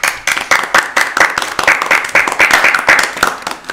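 A crowd applauds with dense, lively clapping that continues for several seconds without talk.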